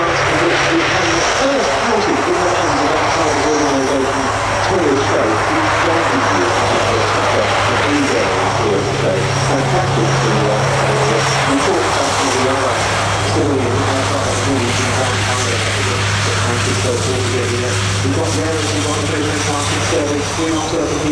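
A Turbo Firecat firefighting propeller aircraft flies at an air show, its engine producing a continuous loud drone and roar that holds steady throughout, with a commentator talking over it.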